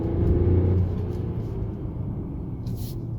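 A 2021 Mercedes E450 4MATIC engine rumbles steadily from inside the cabin, a low droning hum that swells briefly then settles into an even cruising tone.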